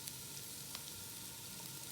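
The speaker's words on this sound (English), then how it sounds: "And when it sputters, let's go ahead and add our chopped onions" Chopped onions sizzle softly in hot oil for a curry, a faint, even hiss with a couple of tiny pops.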